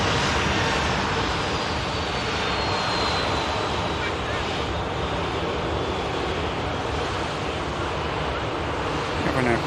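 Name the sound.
aircraft at Manchester Airport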